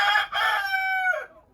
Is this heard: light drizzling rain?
no